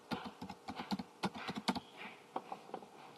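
Keys on a computer keyboard click in quick irregular bursts while a place name is entered into mapping software, close and fairly quiet with brief pauses between clusters of keystrokes.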